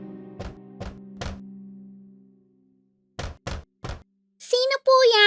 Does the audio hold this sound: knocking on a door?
yes